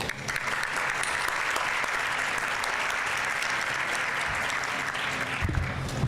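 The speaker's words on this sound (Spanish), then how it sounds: "por favor, demos la bienvenida con un fuerte aplauso" Audience at a business luncheon conference gives sustained, loud applause, a dense even wash of many hands clapping throughout with no talk over it.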